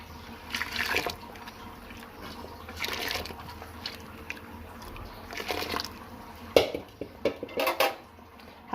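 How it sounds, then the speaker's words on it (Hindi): Rice for sweet yellow zarda rice goes into a pot of water on the boil: soft pouring, splashes, and metal-on-pot clinks of a spoon in bursts, ending with louder clatter. "अब हम इसमें चावल शामिल करेंगे।"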